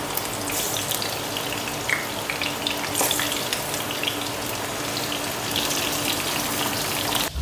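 Food frying in a pan, with garlic and fresh greens among the ingredients, gives a steady, fairly loud crackling sizzle that runs unbroken through the whole stretch, with no voices.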